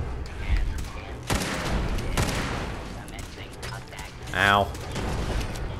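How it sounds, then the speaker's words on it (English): Gunfire from the hip in the video game Fallout 4: several sharp, broadband shot bursts at close range, with a brief vocal exclamation mixed in. "Firing from the hip."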